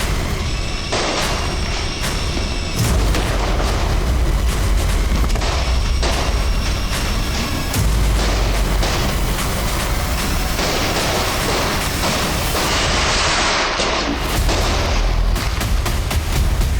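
Diwali firecrackers burst continuously in the evening, with dense, loud booms and cracks repeating throughout and sharp bangs among them, like gunshots mixed into the barrage.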